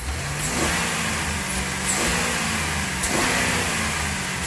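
A GM car engine revs up several times from idle, each blip a rising, fairly loud mid-pitched roar that settles back before the next, with no talking over it.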